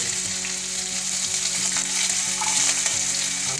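Onions sizzle and fry in hot oil in a pan, a steady close crackle with faint stirring and scraping throughout, no voices.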